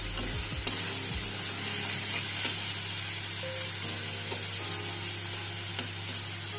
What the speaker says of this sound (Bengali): দিয়ে এবার এটাকে ভালো করে নাড়াচাড়া করতে হবে।